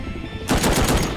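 Rapid machine gun fire in the video game Rust erupts after a brief quiet moment, a loud sustained burst of close automatic shots.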